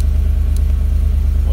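A 2013 Jeep Rubicon fitted with a swapped-in LS3 V8 and six-speed automatic idles steadily up close, a deep, even low rumble with a faint pulse throughout.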